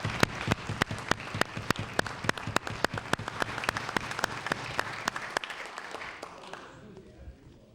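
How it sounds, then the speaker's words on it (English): Polite applause from legislature members in a provincial House of Assembly chamber, a modest group clapping in a fairly regular rhythm, with sharp individual claps standing out, before dying away near the end. "stand and receive a polite applause from members of the legislature."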